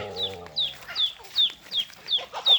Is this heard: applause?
no